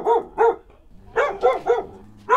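A dog barks repeatedly nearby in an outdoor spot where car coilovers are being installed, with two sharp barks, a pause, then a rapid run of four more barks.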